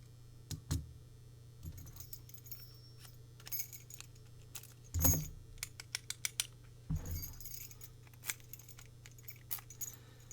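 A Falcon KS41 series padlock is handled and tugged with a ring of three keys, giving scattered quiet metallic clicks and jangles with a few louder clanks, close by and alone.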